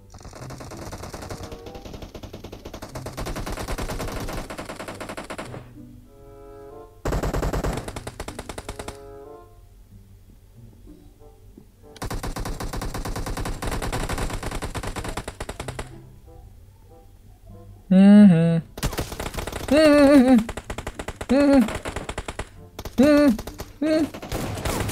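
Rapid automatic gunfire bursts from a PUBG Mobile death match, loud and close, alternating with pauses and busier stretches of overlapping shots and game effects.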